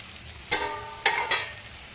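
Onions frying in a pan for tamarind rice: a soft bed of sizzle with three brief, louder bursts of stirring and hissing, close by and with no talking.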